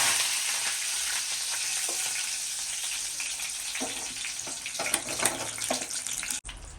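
Curry leaves sizzle in hot oil for a Kantola shaak, a dense crackling hiss that grows more spattery before it cuts off abruptly.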